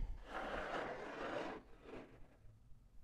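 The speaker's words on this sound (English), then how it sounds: "So I'm going to slide it out of the way." A dial gauge sliding along a table saw during blade alignment, a quiet scraping rub that lasts about a second and a half, then a shorter second slide. The sound is close and faint, and no one speaks.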